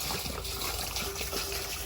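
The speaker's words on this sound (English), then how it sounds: "So we're gonna add water first. So let's just add some water in here." Pool water is poured into a sand filter tank during a rebuild, a steady trickling splash running continuously at moderate level with no voices.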